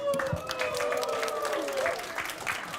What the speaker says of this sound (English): Ladies and gentlemen, let's give him a round of applause.